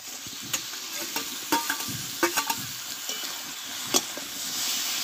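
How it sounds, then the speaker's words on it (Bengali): Chicken pieces hit hot spiced oil in a Bengali-style spicy chicken dish, setting off a steady close sizzle with occasional sharp pops and spattering crackles. "এবার এখানে আমি চিকেনগুলোকে আমি ঢেলে দেবো"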